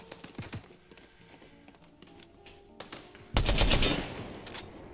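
Gunfire in Fortnite aimed at the player, with scattered shots early on and then a loud, dense burst of automatic fire near the end.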